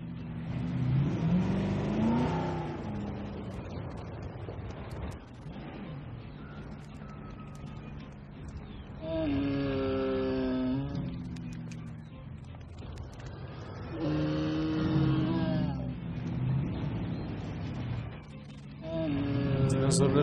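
Vehicle engine in the dinosaur park game Jurassic World Evolution, revving and accelerating in repeated surges with pauses between, mid-pitched and fairly close, with some faint talk underneath.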